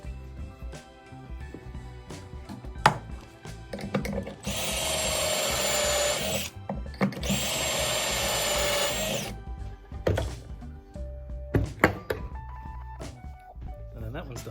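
Drill boring pocket holes in wood with a pocket hole jig, two loud, steady whining bursts of a few seconds each, surrounded by clattering handling noises, with a voice talking now and then.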